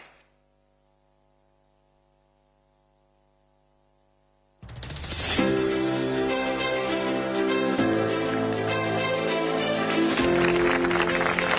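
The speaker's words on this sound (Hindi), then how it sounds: "जोरदार तालियां।" Loud, sustained applause from a large audience at a BJP public event in Raipur, starting abruptly after a stretch of near silence with faint mains hum and continuing steadily to the end.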